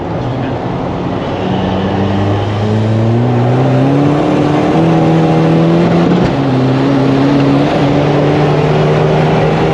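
A Stage 3 tuned Seat TDI diesel engine revs up steadily through the gears, its pitch climbing and dropping in rising sweeps, loud and close, with no talking.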